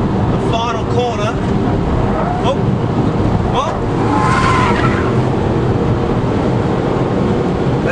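HSV Clubsport accelerating hard on a race track, its engine roaring loud and steady throughout with rising gear-change sweeps, while a driver talks over it.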